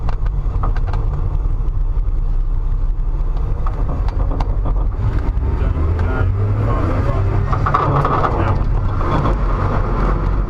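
A car engine roaring loudly and steadily from inside the vehicle during a handbrake drift at a driving experience day, with low rumble and rising revs throughout.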